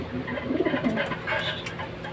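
A pet pigeon coos softly and briefly at close range over a faint background hum, while quiet speech is barely present.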